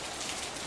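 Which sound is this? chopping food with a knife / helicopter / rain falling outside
rain falling outside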